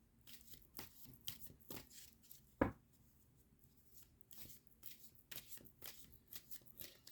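Tarot cards being shuffled by hand during a card reading, a series of soft riffling bursts and light snaps, fairly quiet and close, with one sharper crisp flick partway through and no talking.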